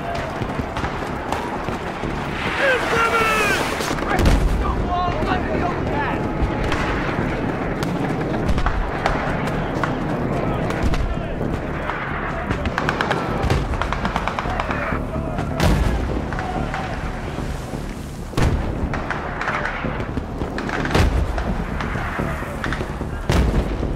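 Mortar fire and gunfire in the Battlefield 3 video game, with repeated heavy booms and scattered shots spread across a long stretch of steady battle noise, loud and dense, with no clear speech.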